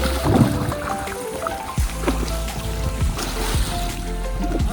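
Water splashing and spraying from a tractor-mounted mobile water park, a steady, dense wash of splashing with a low engine-like hum and a few sharper bursts throughout.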